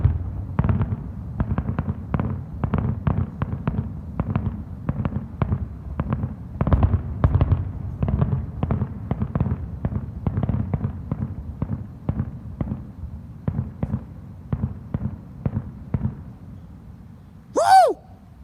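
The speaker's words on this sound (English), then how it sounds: "Happy 100th anniversary of LOUDS fireworks." Dense barrage of fireworks at a large anniversary display, rapid booming bursts and crackles repeating for the whole stretch, ending with a single whistling rocket climbing and popping near the close.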